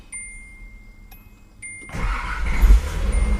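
A Nissan Z car engine cranks and catches after the fuel pump primes, with faint priming ticks and whines first, then a loud broadband rumble that settles into a steady close idle.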